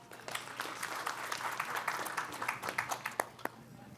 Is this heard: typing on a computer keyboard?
no